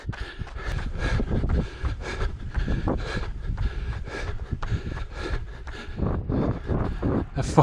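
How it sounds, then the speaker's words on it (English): Wind buffets the microphone of a runner heading into a headwind during marathon training, a loud, rumbling, gusty roar with a rhythmic pulse that matches the running stride, heard alone without talking. "A fucking headwind on this."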